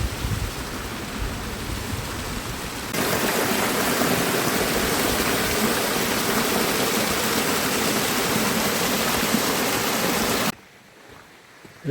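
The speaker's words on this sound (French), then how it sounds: "Elle est belle cette cascade de la Pisse." Cascade de la Pisse, a mountain waterfall in the French Alps, gives a loud, steady roar of rushing water heard up close, swelling stronger partway through before dropping away abruptly near the end.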